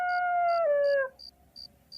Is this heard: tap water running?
no